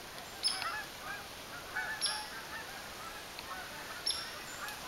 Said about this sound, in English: I hope you can hear those geese.